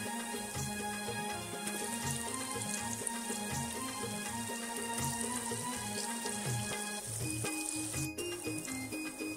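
Mutton hits hot spiced masala in a pan and sizzles, a steady frying hiss with a faint rhythmic scrape of stirring, close and constant without talk.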